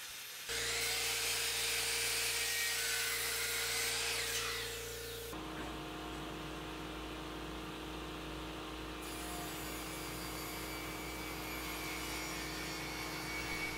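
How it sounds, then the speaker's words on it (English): A power tool mills down the middle stretcher of a wooden table, a loud high whining cut for about five seconds that drops to a steadier lower machine hum which continues to the end. "So I'm actually milling down the middle stretcher right here."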